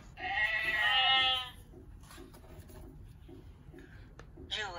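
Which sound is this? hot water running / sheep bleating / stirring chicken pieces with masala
sheep bleating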